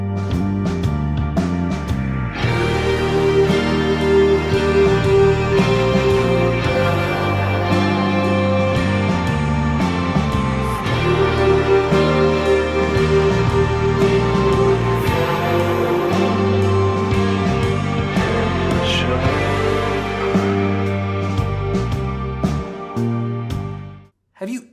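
A bass-driven heavy rock track with doom leanings plays continuously and densely at full volume, then stops abruptly at the end.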